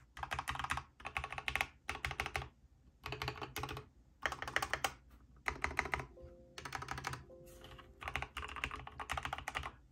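A mechanical keyboard with Everglide Aqua King switches, soldered into an Idlewow 96 board, is typed on in rhythmic bursts of soft, deep clacks with brief pauses, close but fairly quiet.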